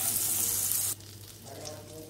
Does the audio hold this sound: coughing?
no